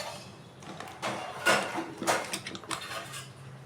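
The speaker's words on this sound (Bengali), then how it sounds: "এবার কুকারের ঢাকনাটাকে আমি এইভাবে ঢেকে নেব" A pressure cooker lid is set and closed over a pot of dal being boiled, giving several clanking metal knocks and scrapes at close range with no talking.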